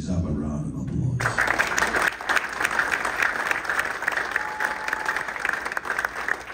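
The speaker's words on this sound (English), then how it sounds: "They deserve a round of applause." Men's ministry audience in Boston breaks into dense, sustained applause right after a brief spoken line, the clapping filling the room at moderate volume.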